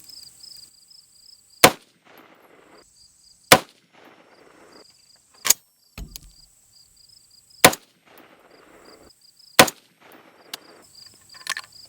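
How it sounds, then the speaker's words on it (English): Six sharp, loud rifle shots from an AR-style rifle ring out one at a time at a steady spacing of about two seconds, each followed by a short echo, with no talk. "confirmation shot."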